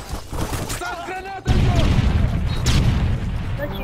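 A grenade goes off in Modern Warfare 3, a sudden loud boom partway through that leaves a dense, rumbling wash of blast noise, with game chatter and effects underneath.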